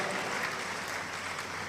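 A church congregation claps together in a dense, steady burst of applause that continues throughout.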